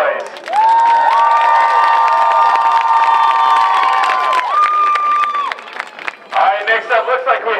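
Loud crowd cheering and screaming at a demolition derby at the Chautauqua County Fair, with shrill whistles and yells sustained for several seconds, dipping briefly before a fresh burst of shouts near the end.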